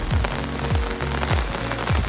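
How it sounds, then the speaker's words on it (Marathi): Heavy rain drumming steadily on an umbrella held overhead, a dense, close patter with recurring low whooshing sweeps, loud and continuous, no voices. "पाऊस आलाय भरपूर"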